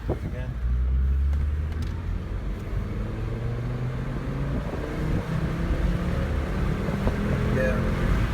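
A VW Jetta 2.5 engine with a hesitation around 4,000 to 5,000 RPM revs in a low, steady rumble that rises and holds, close and loud throughout.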